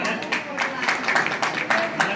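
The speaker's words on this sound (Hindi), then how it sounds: "बहुत जोर से ताली बजाओ भाई।" An audience at a gathering in India claps loudly and continuously, a dense patter of many hands with short swells, while a voice speaks over the applause.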